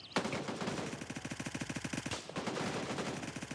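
A gun emptied in a full-magazine dump in the video game Gray Zone Warfare, a rapid, evenly spaced burst of loud shots that stops briefly and then resumes with another fast string of fire.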